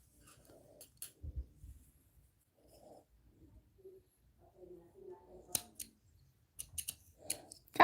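Scissors snipping crochet yarn produce a few sparse, quiet clicks and cuts with pauses between them, close by in an otherwise quiet room.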